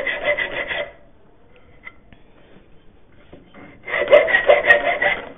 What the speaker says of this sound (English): start with a file